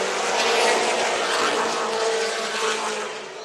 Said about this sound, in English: We've got fast cars moving forward.